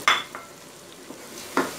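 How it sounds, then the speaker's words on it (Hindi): Green peas fry with mince keema in a pan while being stirred, with a few scraping stir strokes and a faint sizzle between them. "1 से 2 मिनट मटर को इसके साथ फ्राई कर लें।"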